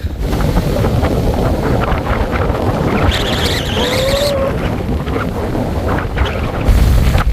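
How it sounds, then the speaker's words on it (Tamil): Strong wind roars across a dry hilltop covered in withered lemongrass on a hill trek near Vaasimalai, a loud, steady, gusting rush that fills the whole stretch with no voices. "ஒரு அருவி கொட்டுற மாதிரி உங்களுக்கு இந்த காற்றோட சத்தம் கேட்கும் பாருங்க"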